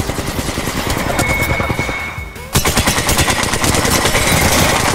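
Sustained automatic gunfire in the Apex Legends shooter, hitting the player: loud, rapid bursts that pause briefly, then resume harder and closer, with no talking over them.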